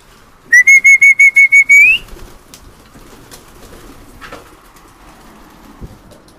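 Pigeons are let out of their loft to fly on a drizzly day, with a loud, close whistle of eight evenly spaced notes followed by quiet rustling and faint flapping in a calm background.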